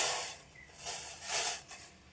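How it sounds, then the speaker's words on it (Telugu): Water splashed into a heated pot while making moong dal payasam hisses and sizzles in three or four close, swelling bursts over about two seconds, with no talking. "గిన్నె పెట్టుకుని అది వేడెక్కాక నీళ్ళు వేసుకొని"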